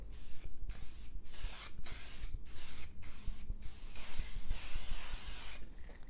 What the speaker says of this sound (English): I'm going to spray fix this and we let it dry.